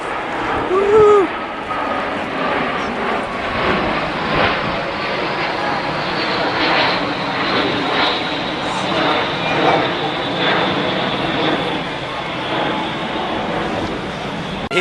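A jet from an airshow team roars past low overhead, a loud, steady broadband rush that swells slightly and persists for the whole stretch, with some crowd or wind noise mixed in.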